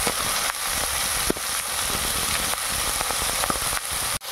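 Prawns fry in hot oil on a wood-fired clay stove, giving a loud, dense, continuous sizzle with scattered sharp pops and crackles, heard close and without talk.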